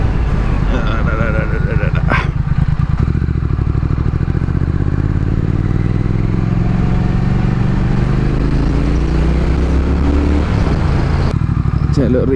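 A powerful motorcycle engine runs steadily up close, its droning rumble rising and falling in pitch as it revs, with a sharp clatter near the start and again near the end.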